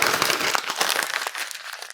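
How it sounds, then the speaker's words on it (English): Newspaper or white recycling paper being crumpled into a ball by hand, a close, dense crinkling that rustles steadily for about two seconds and then stops abruptly, with no talking. "crumple it up, and place it into your watershed bin"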